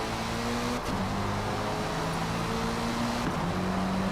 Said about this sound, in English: Take a listen to this Sauber C9.